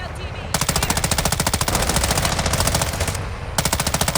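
Rapid automatic gunfire from Call of Duty: Modern Warfare II Warzone 2.0 DMZ, sustained bursts of fast rhythmic shots with a short pause, then firing resumes, loud and close.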